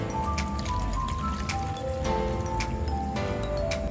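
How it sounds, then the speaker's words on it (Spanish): A liter of water is poured into a pot holding tamarind, producing a steady close liquid splashing and gurgling with rising watery tones and small drips. "Le vamos a agregar 1 litro de agua."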